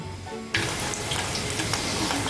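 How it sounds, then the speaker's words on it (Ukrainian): Cherry-filled pampushky doughnuts sizzle loudly in hot frying oil, a dense, steady crackle that starts abruptly and continues without a break. "Чуєте, як шкварчать ці вже пампухи з вишнями?"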